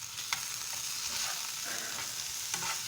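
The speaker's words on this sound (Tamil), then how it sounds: "இப்போ சேர்த்தாச்சு, அந்த காயோடு சேர்த்தாச்சு. நல்லா வதக்கி விட்டுக்கோங்க." Capsicum and mixed vegetables sautéing in a pan for mushroom fried rice, a steady soft sizzle with occasional stirring scrapes, fairly faint and with no voices.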